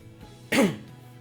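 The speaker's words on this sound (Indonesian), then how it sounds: "Sedikit batuk-batuk ya karena cuaca kurang pas" A single short, close cough, sharp and throaty, against a quiet background.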